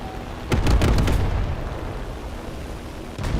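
Bombs dropped from an aircraft strike a tank in War Thunder, landing as a loud, close boom with a long rumbling tail. A smaller burst follows at the end, and nobody speaks.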